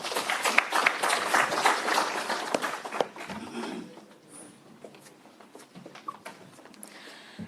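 An audience at a formal high-level stakeholder engagement applauds, with dense, loud clapping for about three seconds that then thins into scattered claps and quiet room noise.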